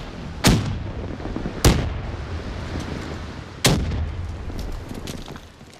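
Three sharp, loud gunshot-like blasts crack out in Black Ops 3 gameplay, spaced irregularly, each ringing off into a short decaying tail over low background noise.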